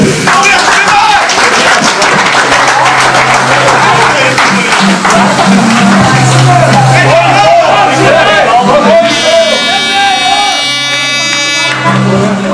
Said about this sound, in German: Ich möchte Sie, meine Damen und Herren, um alle bitten, einen herzlichen Applaus